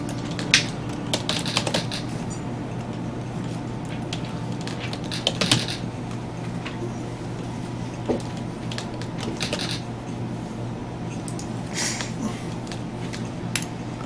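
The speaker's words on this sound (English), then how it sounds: "Keep typing." Keyboard typing from the video game The Pandora Directive clatters in uneven bursts of rapid keystrokes over a steady low hum, with short pauses between runs.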